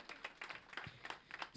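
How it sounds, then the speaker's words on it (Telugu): An audience claps at Brahmanandam's 70th birthday celebration, quiet and distant, with sharp individual claps in an uneven rhythm. "ఒకసారి గట్టిగా చప్పట్లు కొట్టాలి"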